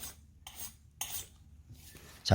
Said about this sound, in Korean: 제가 이 키로 긁어 볼게요